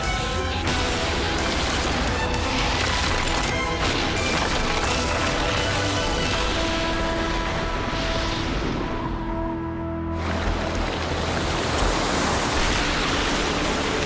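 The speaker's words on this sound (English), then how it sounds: "Waves." Big ocean waves of 80 to 100 feet, the kind ridden in big wave surfing, roar as a loud, continuous broadband wash with surges of crashing surf, steady throughout with no voices.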